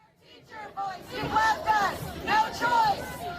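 Protesters in Denver opposing the dismantling of the Department of Education chant in rhythmic, repeated bursts, a crowd of raised voices calling out in unison at moderate distance.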